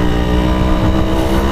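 A 1997 Yamaha RX Special two-stroke motorcycle engine revs steadily up close, a loud, continuous buzzing drone with no talking.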